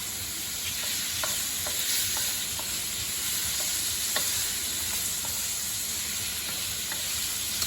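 Prawns frying in a pan for surf and turf, a steady broadband sizzle throughout with scattered small pops and crackles, close and fairly loud, no voices.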